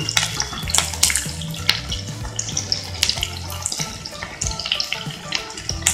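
Five or six long-cut green chillies frying in a pan give a steady, close sizzling crackle, broken by a few sharper pops and clinks.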